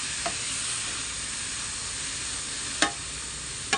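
Garlic and onion sauté in a hot pan with a steady, bright sizzle throughout, punctuated by a few short scraping stirs of a utensil against the pan.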